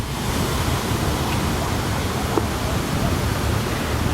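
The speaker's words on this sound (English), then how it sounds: "when you get closer towards the fountain you can actually really feel the water" Broad, steady rush of the large lake fountain's water jet on Lake Geneva on a hot day, heard up close as a loud, continuous spray with no breaks.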